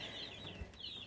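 Baby chicks peep in their new pen. Thin, high cheeps come in short drawn-out strings, faint and somewhat distant, against a quiet background.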